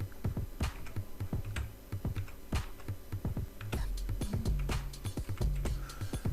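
Fingers type on a computer keyboard while entering login details, giving irregular close clicks and clacks with brief pauses between bursts of keystrokes and no talking.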